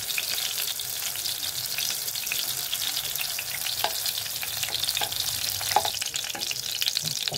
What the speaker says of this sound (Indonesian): Goreng ya. 2 tahu kuning sampai warnanya coklat.